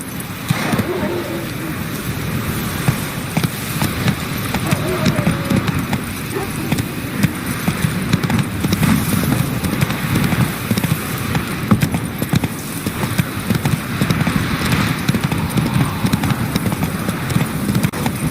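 Roach the horse galloping in the video game Witcher 3: rapid, steady hoofbeats drum continuously for the whole stretch over a dense layer of game ambience.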